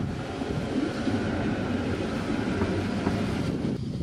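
A tram pulling into its depot at the final stop, a steady broad rumble of wheels and rails held at constant loudness throughout, with no voices.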